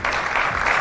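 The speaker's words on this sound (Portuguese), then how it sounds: "um aplauso para si" Audience applause fills the short stretch as a dense, steady patter of many hands, fairly loud and even throughout, with no voices over it.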